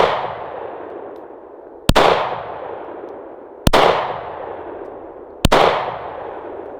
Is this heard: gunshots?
yes